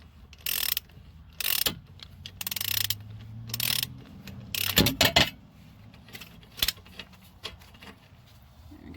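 Ratcheting wrench clicks in short bursts as a strut nut is loosened on the front passenger strut of a 2010 Toyota Camry, with metallic clanks and pauses between strokes, close and fairly loud.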